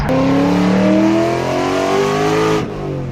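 A Ford Mustang engine revs loud and close, its rising, throaty pitch climbing and holding before cutting off sharply near the end, with no talk over it.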